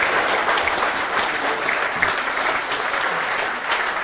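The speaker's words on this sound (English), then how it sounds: "you can hear their round of applause for both players and appreciation around the room" A round of applause for both players after a pool tournament final, a full room clapping steadily and loudly for several seconds, with no voice over it.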